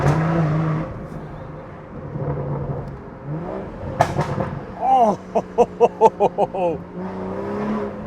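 A BMW M140i with a crackle map revs loudly, its exhaust popping in a rapid train of sharp bangs after a talker's voice at the start, then settling back under speech.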